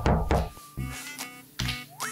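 Close, solid knocks land on a door in a few separate bursts, hollow thuds with a brief whistle-like tone between them.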